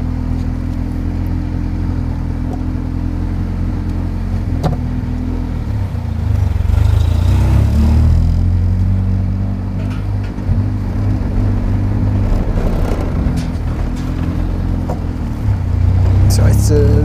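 A 1984 Hyundai Pony 2 drives slowly through a parking lot, its small engine humming steadily close by. The hum swells briefly midway, and someone talks over it throughout.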